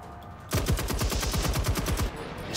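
A weapon in the game Generation Zero fires a rapid automatic burst of roughly fifteen close, loud shots in quick even rhythm, lasting about a second and a half before stopping.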